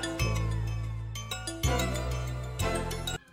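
A synth melody in a trap-style beat, layered with a pitched-up octave duplicate, plays in a few bright phrases over a heavy sustained low bass, loud and up close with no voices.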